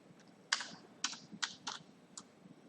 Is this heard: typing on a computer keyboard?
yes